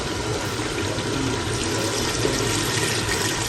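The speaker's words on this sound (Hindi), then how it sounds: "अब मैं यहाँ पानी शामिल करने लगी हूँ" Water poured into an open pressure cooker of browned mutton for a Noor Jahan mutton curry, a steady, close, broadband splashing rush that runs unbroken throughout with no talk over it.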